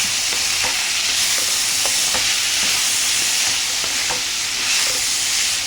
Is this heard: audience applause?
no